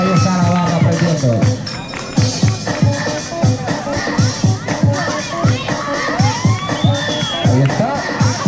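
A street-performance crowd in Madrid's Plaza Mayor claps rhythmically in unison, steady beats under shouting, whooping and loud cheering voices.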